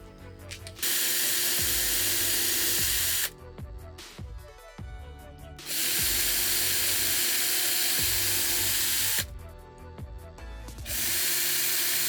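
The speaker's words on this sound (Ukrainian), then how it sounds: "зафіксувавши макет, ми приступаємо до свердління." A power drill whirs in repeated long bursts with short pauses between, with mechanical clicking and rattling during the gaps, close by, drilling through a taped paper template into a string-art heart board.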